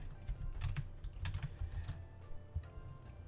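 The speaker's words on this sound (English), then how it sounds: "Let's type in ira ira." Fingers typing steadily on a computer keyboard, a close run of soft, quick key clicks in an uneven rhythm with a few louder taps, no voices present.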